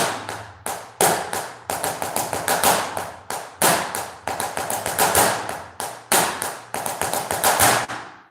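Rapid flamenco heel and foot strikes repeat in a driving rhythm for several seconds, crisp and close, with brief pauses between phrases and no voices.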